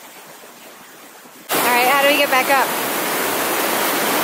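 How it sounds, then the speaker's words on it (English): A Yellowstone waterfall roars loud and close as a steady broadband rush that starts abruptly partway through, with a person speaking briefly over it. "You come to Yellowstone, climb down like half a mile and go into a waterfall."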